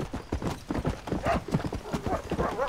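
Rhythmic hoofbeats of a horse being ridden in the video game Red Dead Redemption, a steady close clip-clop with brief whinny-like tones and faint game ambience.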